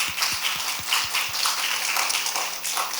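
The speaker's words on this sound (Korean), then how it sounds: "아이들 우리 다음 세대 위해서 박수 한번 해주시면 좋겠습니다" Congregation at a children's Sunday service claps for the children, scattered taps that quickly swell into fairly soft, continuous applause filling the room.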